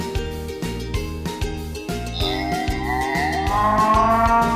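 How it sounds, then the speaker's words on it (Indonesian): A cow lets out a long, drawn-out moo in the second half, loud and close, layered over a steady, rhythmic children's music backing track. "sapi"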